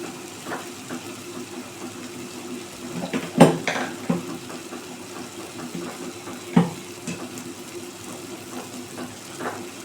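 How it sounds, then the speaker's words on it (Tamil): Water poured onto rice in a pot while making brinji rice, a steady watery wash with a few louder splashes and clinks, close and alone. "இப்போ ஒரு டம்ளர் அரிசிக்கு ஒன்றரை டம்ளர் தண்ணி ஊற்றிக்குவோம்"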